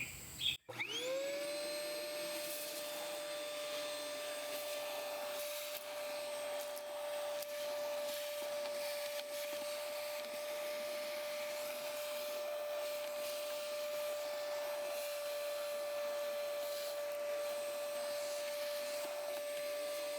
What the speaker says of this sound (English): Now let's go ahead and vacuum them out.